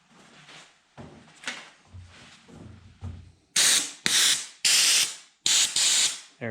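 Several short blasts of an air spray gun spraying automotive cavity wax hiss loudly one after another, preceded by quieter mechanical clicks and handling noises.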